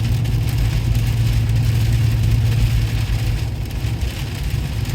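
Steady rain patters on a surface, with a low GM 6.6-liter engine hum underneath from a muffler-deleted exhaust, continuous and moderately loud.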